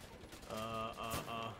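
Rapid automatic gunfire in Wolfenstein: The New Order, a short sustained burst of loud, close shots with a ringing tonal edge, no talk.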